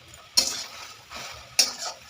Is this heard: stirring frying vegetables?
yes